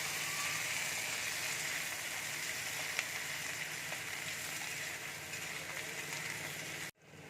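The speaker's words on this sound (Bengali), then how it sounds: "এবার আমি পেঁয়াজটা দিয়ে দিচ্ছি, ক্যাপসিকামটা দিয়ে দিচ্ছি। হালকা করে আমি কিন্তু ভেজে নেব" Onion and capsicum frying in a pan, a steady soft sizzle that holds evenly for about seven seconds before cutting off abruptly.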